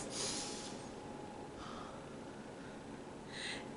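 A storyteller's voice imitates a lion sniffing, giving a few short, breathy sniffs spaced a second or two apart, close and fairly quiet.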